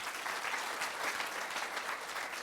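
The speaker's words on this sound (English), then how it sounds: "Give her a round of applause again." Audience applause at a student speaking event, a brief, steady burst of many people clapping at a fairly quiet, distant level.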